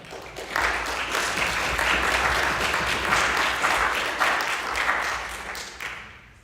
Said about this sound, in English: our administrators need to get a round of applause too